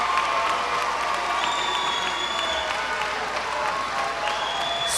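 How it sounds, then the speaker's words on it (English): Steady, even applause from a large audience at a high school graduation ceremony in a big hall, with scattered cheers and whoops over the continuous clapping. "Please give our graduates in row 6 a round of applause."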